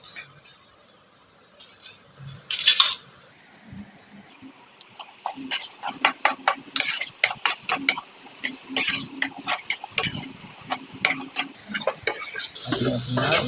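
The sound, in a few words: onions frying until golden brown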